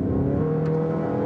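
A 2007 Dodge Caliber with a 2-litre petrol engine accelerating, heard from inside as a steady, noisy hum that climbs in pitch, with no talking.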